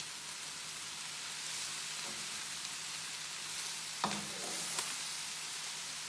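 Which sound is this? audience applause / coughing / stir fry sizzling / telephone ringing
stir fry sizzling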